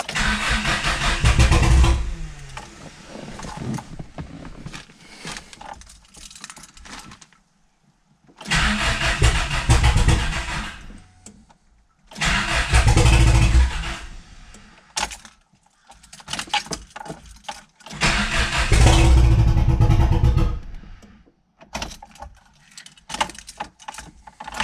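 A 1980s sports car engine, unrun for two years, cranks and fires in several loud bursts separated by short quiet gaps, then settles toward a rough idle, close by with no talking.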